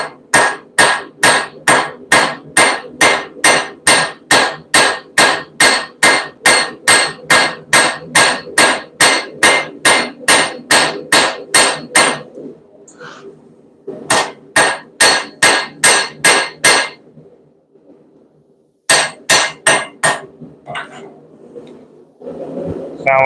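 A blacksmith's hammer pounds hot forged metal in fast, evenly spaced ringing blows, loud and close, with two brief pauses before the strikes resume.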